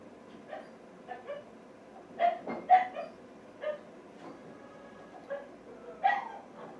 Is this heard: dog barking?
yes